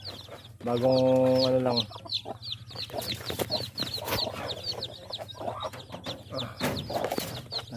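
A Shamo hen clucks close by among newly hatched chicks, with a loud sustained call near the start, then repeated clucks and thin peeping from the chicks, while someone talks briefly over them.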